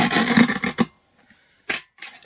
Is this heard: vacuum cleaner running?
no